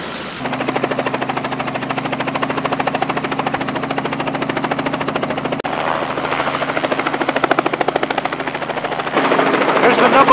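A helicopter's rotor thuds in a loud, rapid, steady pulse close by over a country club golf ball drop, with engine roar throughout and intensity rising toward the end.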